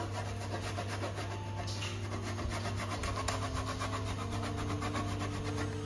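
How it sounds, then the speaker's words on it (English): A block of strong Parmesan cheese is grated over finished Alfredo pasta, making a steady, faint scraping rasp that continues without a break, close by and without talk. "So time to put the Parmesan cheese. Just grate a bit."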